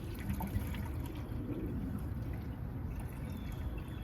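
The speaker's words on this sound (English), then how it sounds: "Just gonna pour it all in there." A steady glugging pour of 50-to-1 two-stroke fuel mix into a NOMA snowblower's tank, continuous and close, with a soft gurgling wash that doesn't let up.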